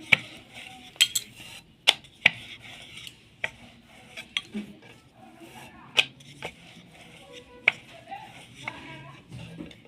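Spinach paratha dough being rolled out with a rolling pin in a home kitchen: soft rolling and scraping against the board, punctuated by sharp knocks and clacks of the pin at irregular intervals, quiet and close.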